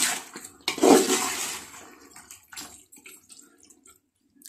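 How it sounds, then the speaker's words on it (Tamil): Water poured into chicken biryani gravy in a pot: a short splashing pour that swells quickly and then trails off into faint trickles and drips, close and alone. "கலந்து விட்டுட்டு ஒரு 1/2 டம்ளர் போல் தண்ணி விட்டுக்கோங்க."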